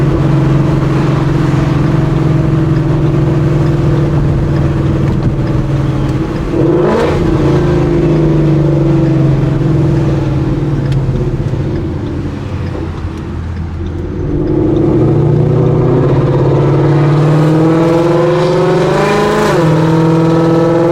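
A modified Ford Mustang GT V8 pulls away under light throttle, a steady loud engine drone rising in pitch through two acceleration runs with a brief dip between them.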